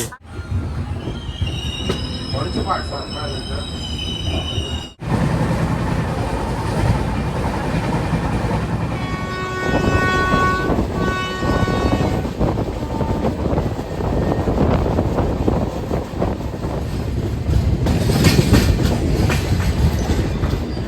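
The Mandovi Express rolls steadily along the Konkan Railway rails, loud and close, with rhythmic wheel clatter, metallic squeals and wind buffeting throughout.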